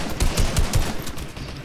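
Rapid bursts of gunfire in Fortnite as players shoot at falling bots: several sharp, close, loud shots in quick uneven succession over a steady noisy game background, with no talking.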